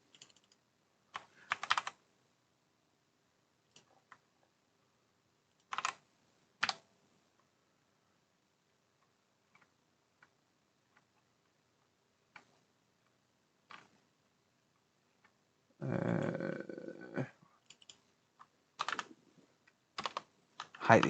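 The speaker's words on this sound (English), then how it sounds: "Hate this keyboard." Bursts of clicky computer keyboard typing come in short separated flurries across a long, mostly quiet stretch, with one longer run of keystrokes near the end.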